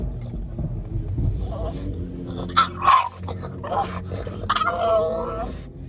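A dog out with a group of women near the foreshore gives whimpering, grunting vocal sounds close by, rising in a couple of louder bursts with faint background noise throughout.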